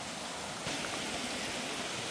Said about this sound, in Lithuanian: Krioklys ant kriokliuko.